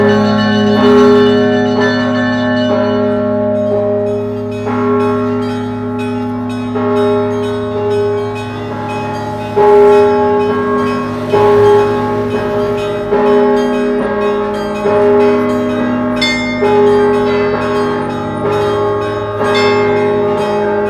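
A church bell rings out loud and close, its overlapping strikes humming and sustaining continuously with no voices over it.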